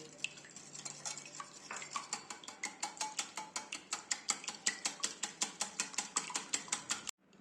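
Two eggs beaten with three spoonfuls of milk in a bowl produce a fast, steady run of close, crisp clicking whisk strokes, about four or five per second, stopping abruptly after seven seconds.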